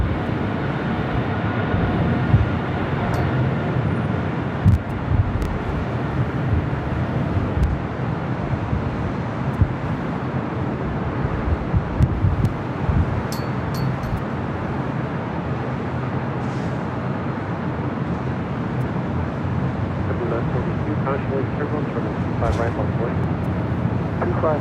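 A British Airways airliner rolls down runway 25 right at LAX, its steady broad engine roar carrying evenly from middle distance for the whole stretch without any talk.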